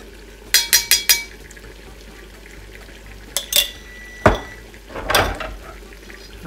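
A spoon scrapes and clanks in a pot of Newari khasi meat pakku with ghee, heard as a quick burst of four metallic taps, then a few louder scrapes and knocks against the pot over a quiet simmer.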